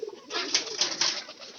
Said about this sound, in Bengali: তো এই চিন্তা করে কিন্তু আমরা কবুতর গুলা এইভাবে খাবারটা দিলাম